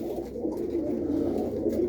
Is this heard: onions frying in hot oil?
no